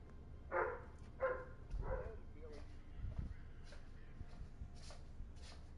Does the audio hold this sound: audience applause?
no